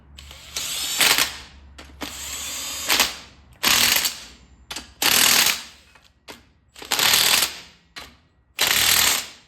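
A ratchet wrench tightens the bearing caps on a Sterling 10.5 axle being swapped into a 1971 Ford F100. It comes as about eight loud, close bursts of rapid clicking, separated by short pauses.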